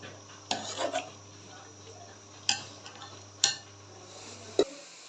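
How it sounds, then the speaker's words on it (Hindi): A spoon scrapes and clinks against a pot as carrots cook down in milk on medium heat for gajar ka halwa, with a few sharp taps spaced across a quiet kitchen background. "थोड़ी थोड़ी देर के बाद मैं चम्मच चलाती रहूँगी"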